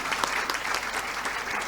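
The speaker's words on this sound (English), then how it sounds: "A big round of applause for" An audience at a public policy forum summit in India claps in a dense, steady burst of applause, loud and continuous throughout.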